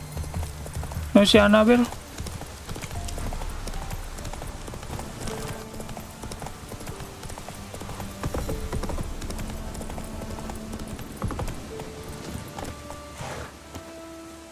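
Steady galloping hoofbeats of Roach, Geralt's horse in the video game The Witcher 3, run continuously under game music. A short neigh sounds early on, and someone talks over the hooves.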